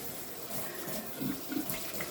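Ice-cold water runs steadily from a tap during a farm bacon-curing session, a continuous close splashing hiss with a few louder gurgles partway through.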